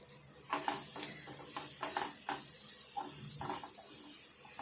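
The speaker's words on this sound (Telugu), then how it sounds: "ఈ వైట్ ఇట్లా కొద్దిసేపు వేపుకోవాలి" Egg white fries in a pan for a home-style egg recipe, a soft sizzle with several scraping stirs of a spatula, close but fairly quiet and with no voices.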